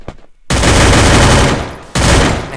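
Gunfire in the shooting game Free Fire: a short pop, then two loud sustained bursts of rapid shots separated by a brief pause.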